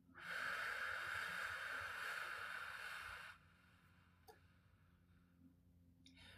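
A slow, airy exhale during a gentle breathing exercise for lower back relief, steady and close for about three seconds before it fades into quiet room tone with a faint click.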